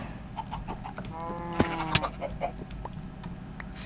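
Chickens clucking in a Minecraft FTB server animal pen, several short clucks and a drawn-out squawk over a low background hum, with no one speaking.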